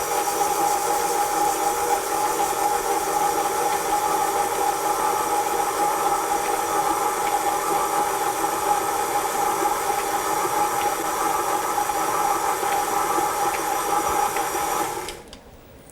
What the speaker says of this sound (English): we're just going to switch on our mixer. And initially we want it on a very low speed